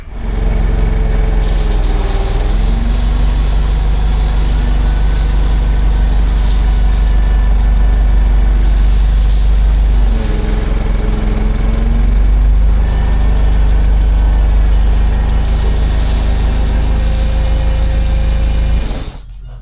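A heavy forklift engine runs loud and close, idling with a deep rumble, rising and falling as it revs, with hissing bursts at intervals.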